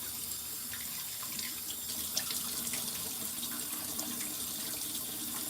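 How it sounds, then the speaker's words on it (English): Water running steadily from a sink tap while a face is rinsed, a constant close rushing splash with slight fluctuations and no talking. "And I try to pull up when I'm rinsing my face off."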